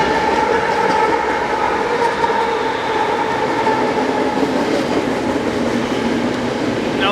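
Freight train rolling past at Fullerton, a steady loud rumble with clattering wheels and metallic squeals, close and continuous throughout, no voices.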